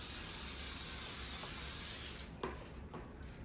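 Cooking spray hisses in a long, steady burst into a cupcake pan, then stops and is followed by a couple of brief, softer puffs and light clatter, close by.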